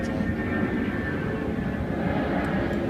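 Airplanes flying over a park beside the Bay Park plant in Nassau County, a continuous broad engine roar that stays steady and fairly loud throughout.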